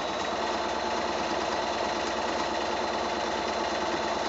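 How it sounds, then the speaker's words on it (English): Sewing machine quilting parallel straight lines with a walking foot, a steady close rapid mechanical whirr and stitching chatter running continuously without talk. "with a walking foot, because it's feeding from the top as well, it just gives you that really nice feed"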